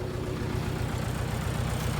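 A heavily loaded tractor engine labours while ploughing a sandy field uphill, a continuous low rumbling drone that stays steady and close throughout, with no speech.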